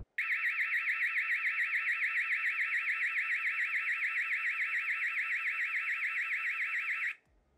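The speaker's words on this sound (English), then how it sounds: "an idea of how loud the alarm is of both these cameras" A loud, piercing electronic siren from a Dahua IP security camera, heard about half a meter away, wails continuously with a rapid warbling pitch for about seven seconds, then cuts off abruptly.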